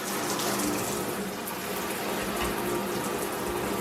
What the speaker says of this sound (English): it looks like the boiler's just come on